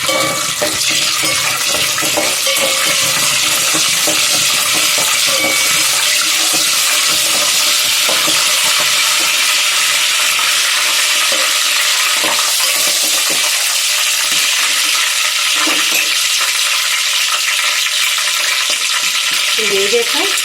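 Green chillies and shahjeera crackle in hot oil in a pan for prawn biryani, a loud, continuous sizzle with scraping stirs throughout and no talk.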